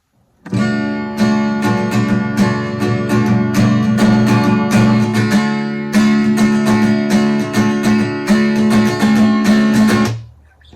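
Guitar strumming back and forth between two chords in the intro of a song, full and loud with dense rhythmic strokes, steady for about ten seconds before stopping abruptly.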